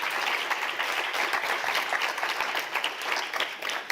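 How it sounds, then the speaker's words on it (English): Audience applause for Nadia Murad at a human rights world conference in Vienna, a fairly faint, even wash of many hands clapping continuously. "let's just send a big applause to Nadia Murad"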